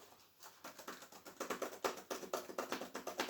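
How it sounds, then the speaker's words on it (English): Quick, irregular clicking of keys on a computer keyboard, close and fairly quiet, with no voices. "Keyboard sounds."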